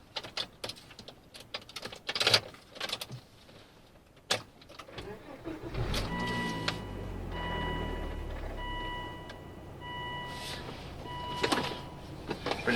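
Second-generation Volvo V70R 2.5 with 300 HP, stanced, starting up with clicks and chimes, then a low engine rumble as it pulls away, with brief talk and cabin noises around it.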